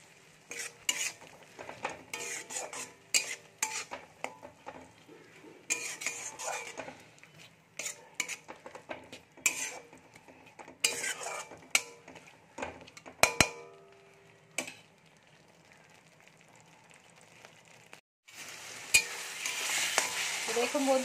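Spices with salt, turmeric and Kashmiri chilli frying in oil for a fish curry, stirred with a spoon: irregular scraping and clinking strokes against the pan over a soft sizzle, ending in a louder, steady hiss of frying.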